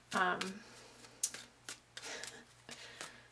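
Soft riffling and flicking of tarot cards being shuffled, several short papery bursts close by, with a faint steady hum underneath.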